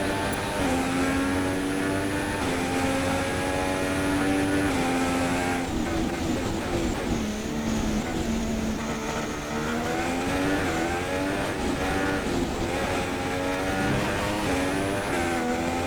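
A Formula One car in the racing video game F1 2016, its engine screaming loud and steady throughout as the revs climb and dip with gear changes, sustained and close with no talking.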